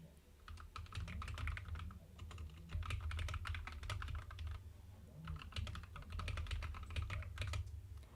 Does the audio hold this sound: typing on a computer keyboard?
yes